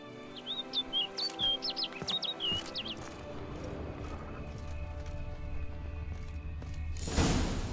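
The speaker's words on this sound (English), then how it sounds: "Looks like the bird's leading me somewhere." In The Witcher 3: Blood and Wine, a bird chirps a quick run of bright twittering notes over a steady ambient game soundscape, ending with a louder burst of noise.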